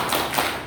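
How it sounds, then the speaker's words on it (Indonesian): A group at a community meeting claps together, a brief burst of dense close applause with quick overlapping taps. "Kita berikan tepuk hebat untuk Ibu Yuliani"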